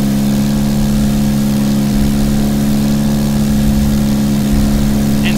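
A light aircraft engine runs at full power during a takeoff in a flight simulator game, a loud, steady, droning hum with strong even harmonics. It holds a constant pitch throughout and plays alone with no talk.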